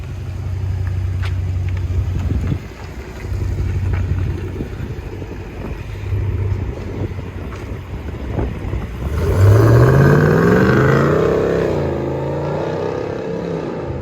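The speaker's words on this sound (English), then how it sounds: "Powerwagon 2021 with FLOWMASTER Outlaw and still factory resonator, 5-inch tips." A 2021 RAM Power Wagon 6.4L HEMI V8 fitted with a Flowmaster Outlaw exhaust, factory resonator and 5-inch tips idles with a deep, loud rumble, then revs up hard in a rising roar before settling back.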